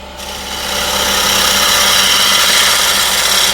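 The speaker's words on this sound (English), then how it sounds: "Spindle gouge, and I think I'm going to increase the speed a little bit" A wood lathe spins a large maple bowl at about 1000 RPM while a spindle gouge cuts it, making a loud, steady, hissing scrape with a hum underneath that holds without a break.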